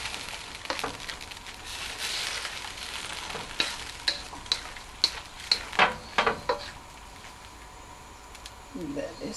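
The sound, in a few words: chicken mushroom egg fu yong sizzling in pan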